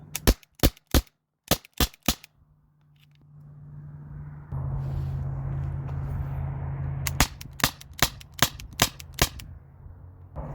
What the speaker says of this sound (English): I'm just degassing the TR50. So I'm just gonna mag dump and not chrono anything.